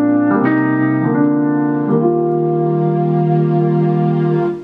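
Layered keyboard patch from an iPad piano app used for live worship, playing a few sustained chords that change around one and two seconds, then ringing on as one long held chord, loud with no talking.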